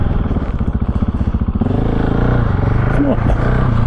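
A GasGas 700 motorcycle on rally tyres is ridden, its engine loud and close with a fast pulsing thump that smooths into a steady drone while the rider's voice is heard over it.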